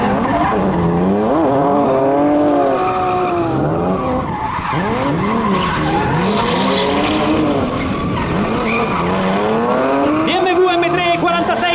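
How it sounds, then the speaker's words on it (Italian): Two BMW M3 race cars drifting side by side on a circuit, tires squealing and skidding in long sweeping wails over loud, rising and falling engine revs, continuous and close throughout. "Ripartono nuovamente affiancati per il Twin Drift."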